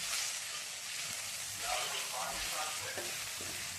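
Loud, steady sizzling of ginger and onion frying in hot oil, with faint stirring scrapes, close by.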